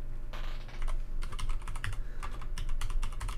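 Fast, steady typing on a computer keyboard, a busy run of close, crisp key clicks with a short pause before a second burst, over a low background hum.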